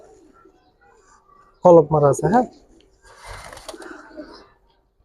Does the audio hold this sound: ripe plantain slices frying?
no